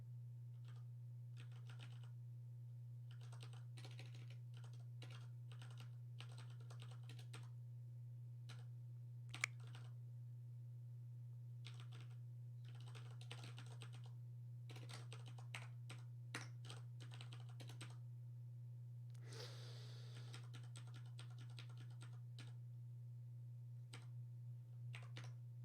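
Someone types on a computer keyboard, clattering in irregular bursts of quick close key clicks with short pauses between, over a steady low electrical hum and no talking.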